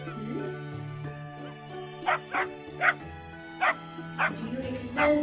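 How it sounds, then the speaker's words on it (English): A dog barks repeatedly in short, sharp yaps with brief pauses between them, close by, over a steady low hum. "Yes, it's a barking sound."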